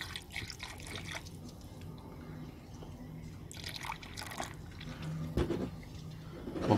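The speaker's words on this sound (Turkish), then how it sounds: "Şimdi öncelikle suyunu tamamen ağzına kadar dolduruyoruz" Water poured into a car's cooling system until it fills to the brim, on an engine with a suspected blown head gasket and its spark plugs removed. A soft continuous trickle and gurgle of liquid, with a few faint knocks near the end.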